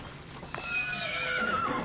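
A video game horse whinnies in a long descending neigh over steady background noise, with a brief thump just before it begins.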